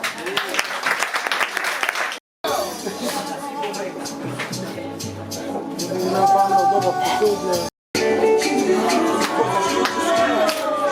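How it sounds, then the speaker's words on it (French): Clapping from guests at a family birthday celebration, broken by two brief cuts, with music and voices running underneath and the sound growing fuller toward the end. "On peut applaudir s'il vous plaît."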